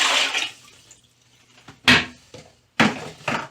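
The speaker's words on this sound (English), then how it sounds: "So we're just going to toss this down into the toilet." Water is tossed into a toilet bowl during a leaky toilet valve repair, landing in two distinct splashes with short quieter trickles between them.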